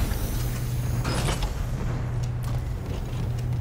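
An airlock door mechanism in the video game Dead Space Remake grinds and creaks over a loud, steady low mechanical hum, with a few brief clanks partway through.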